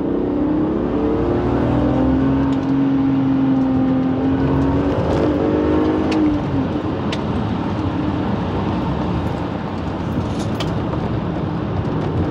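A BMW straight-six engine pulls hard on the move, a loud, continuous drone whose pitch climbs steadily as it revs, then settles into road and engine noise, with no voices.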